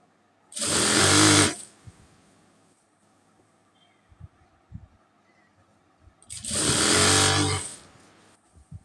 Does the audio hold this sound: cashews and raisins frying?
no